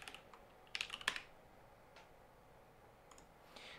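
Close, quiet typing on a computer keyboard while searching Java documentation during a coding session, a quick cluster of key clicks near the start, then a few sparse taps, no voices.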